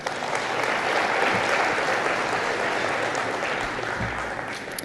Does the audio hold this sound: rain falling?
no